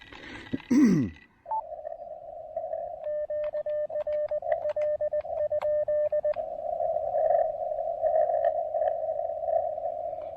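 Morse code CW signals on the 30-meter amateur band come through a portable QRP radio at a wildlife area park activation: a steady tone with rapid keyed dits and dahs over radio hiss after a brief noise at the start.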